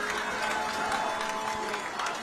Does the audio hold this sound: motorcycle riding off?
no